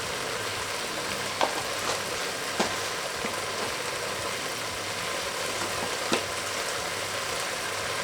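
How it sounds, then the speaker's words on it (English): Spices with turmeric and mustard powder sizzle in a pan, a steady hissing fry with a few faint clicks scattered through it. "Let the spices cook and release their flavors."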